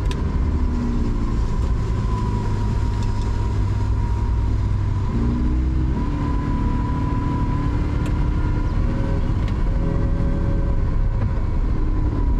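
Lamborghini Aventador Ultimae engine, a steady loud low drone with shifting harmonic bands as it revs and settles, continuous throughout with no talk.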